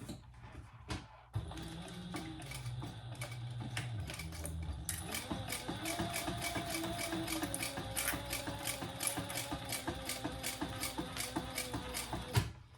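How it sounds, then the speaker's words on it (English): Sewing machine running steadily while top stitching around the edge of a small sling pouch, a close, even mechanical whir with rapid needle clatter, starting after a short pause and holding its rhythm throughout. "I'm going to top stitch all the way around from here to here."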